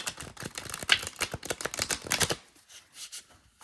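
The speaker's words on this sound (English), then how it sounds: "I actually do shuffle the cards" A deck of tarot cards being shuffled by hand, a quick run of dry riffling and flicking card snaps for a little over two seconds, close and fairly soft, then fading to near silence.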